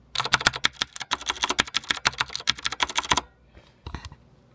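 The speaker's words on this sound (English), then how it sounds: "the keyboard uses blue switches, which some people may like, some people may not," A Razer BlackWidow mechanical keyboard with blue switches gives loud, sharp, clicky keystrokes in a fast close-up burst of typing for about three seconds, then a few scattered presses.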